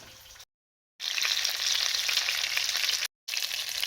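Fish frying in a pan with a steady, loud broadband sizzle that drops out briefly twice, nearby and without talk.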